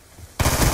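A sudden loud burst of rapid automatic gunfire in Call of Duty: Black Ops II gun game mode, cutting in after a quiet moment.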